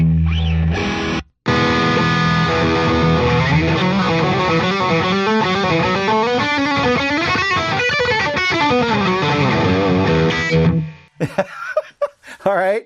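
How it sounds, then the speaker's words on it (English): Heavily saturated shred distortion guitar tone from a VP4 effects unit, played continuously for about ten seconds with dense sustained chords and fast note runs, then cutting off abruptly into brief faint noises. "this is shred distortion"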